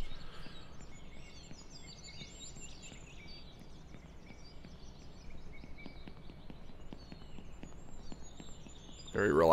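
Faint chirping songbirds run steadily in the background, mixed with soft shuffling and clatter, with a louder burst of noise at the very end.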